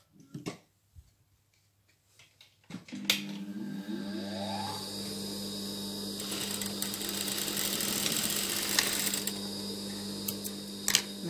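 A sewing machine stitches an elastic hair band up close, with a few handling clicks first, then a rapid, steady mechanical whirring and clatter that runs for several seconds with small knocks.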